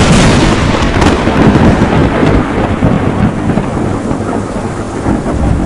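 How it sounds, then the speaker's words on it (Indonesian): A heavy thunder strike sound effect rolls out as a loud, dense rumble with a sharp crack at the start, sustained booming and rain-like hiss fading slowly over several seconds. "sebuah guntur menyambar tubuhnya."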